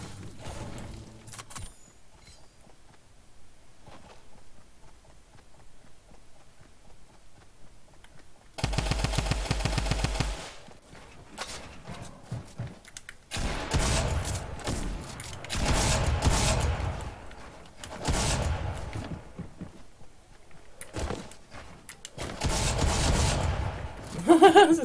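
Rapid automatic gunfire from the video game Fortnite comes in several loud bursts, one long volley followed by repeated shorter strings of shots, with quieter game sounds between them.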